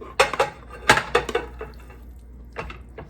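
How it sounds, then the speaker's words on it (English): A sausage and rice mixture scooped into a 13 by 9 ungreased casserole dish, giving a few scraping, clinking spoon-on-dish hits in quick clusters, close and moderately loud, then a quieter scrape after a pause. "we're going to put it in an ungreased casserole dish"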